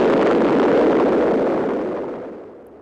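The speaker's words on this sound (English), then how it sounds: "That's a very nice explosion." A big explosion in a 1965 western film booms loudly at once, then its deep rumble slowly fades away over a few seconds.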